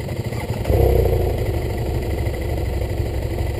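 A heavy motorcycle's engine running close by on a forest trail ride, a steady mid-pitched chugging throb that lifts slightly as the throttle opens, then settles into an even idle.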